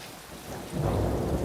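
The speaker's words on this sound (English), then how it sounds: "The rain is holy water." Heavy rain pours down steadily, then a deep roll of thunder swells in and rumbles through the downpour, loud and close.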